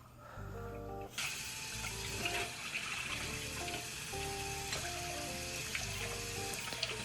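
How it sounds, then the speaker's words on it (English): Tap water runs steadily into a kitchen sink while vegetables are rinsed for a pasta salad, a continuous splashing gush that starts abruptly after a second of quieter sound, with faint music-like tones underneath. "So she's just going to rinse off the vegetables."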